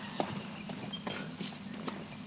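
A horse walks slowly over slippery ground, its hooves landing in soft, faint, irregular clops against a steady background hiss.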